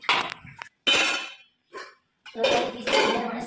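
Stacked dishes, steel pots and cutlery clatter and clink loudly and close by as they are gathered up and carried out of a home kitchen for washing. The bursts are irregular and separated by brief pauses.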